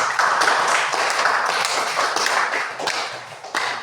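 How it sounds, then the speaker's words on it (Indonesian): Students in a classroom clap their hands for classmates, a brisk, fairly close patter of many overlapping claps with occasional louder hits, continuing steadily without speech. "tepuk tangan untuk Sai dan Grace"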